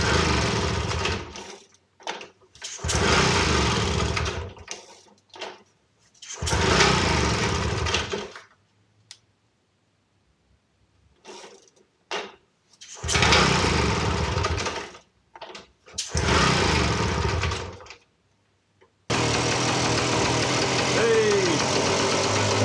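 A small engine fitted with a homemade head gasket cranks in several close, loud bursts separated by short pauses, then catches and settles into a steady, continuous idle.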